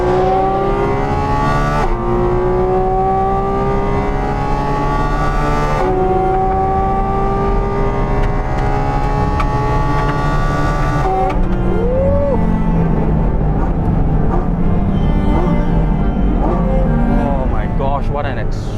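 A high-revving 2022 Porsche Cayman GT4 RS 4-litre flat-six engine screams up toward 9,000 rpm in repeated loud pulls, each climb ending in a sharp drop before rising again.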